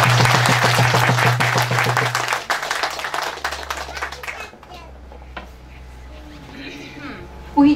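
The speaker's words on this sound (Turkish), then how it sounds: "Kuvvetli bir alkış Nesrin abi." A small gathering at a home gift-exchange party breaks into clapping. A few hands beat brisk, fairly regular claps for a few seconds, and then the clapping fades into quiet room noise and soft voices.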